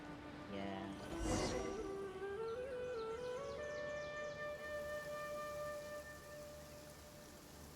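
Steady rain falling in a Sumeru area of the video game Genshin Impact, a dense even hiss running throughout under layered tonal music and game sounds.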